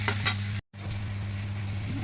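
Rohu fish fries with salt and turmeric in a pan while being stirred, a steady low sizzle with a brief break and faint scraping, close and without talk.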